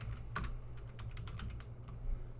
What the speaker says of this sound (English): So we're going to type in MySQL installer.